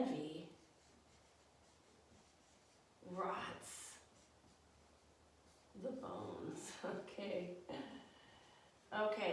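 Someone writes by hand with soft scratchy strokes in the quiet gaps between stretches of a person talking; the strokes are faint and close.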